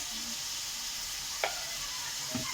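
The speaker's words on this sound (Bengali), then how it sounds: "দিয়ে আমি ভালো করে নাড়বো, একটু করে কষাবো" Bitter gourd and prawns with turmeric sizzle quietly in a pan, with a soft steady hiss and a couple of brief scraping stirs breaking through.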